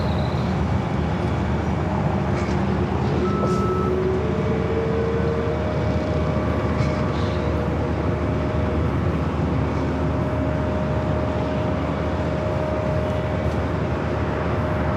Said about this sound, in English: Next arrival is at Delta 767-300ER.